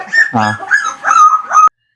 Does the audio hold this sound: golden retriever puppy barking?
yes